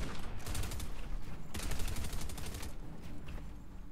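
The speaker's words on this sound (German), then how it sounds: "meiner schießt automatisch" Rapid automatic gunfire in a video game crackles in dense bursts of repeating shots, loud and continuous, with a brief lull before another sustained volley.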